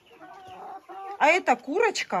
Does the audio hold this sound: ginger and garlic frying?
no